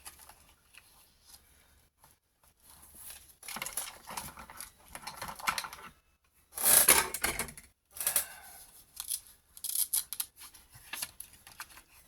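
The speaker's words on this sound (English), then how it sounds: "I just use a 12 by 12 piece of paper and cut it into 3 pieces at 4 inches wide" Scissors or a paper trimmer slice a 12 by 12 inch sheet of craft paper into 4-inch strips, giving bursts of crisp rasping cuts and rustling separated by short quiet pauses.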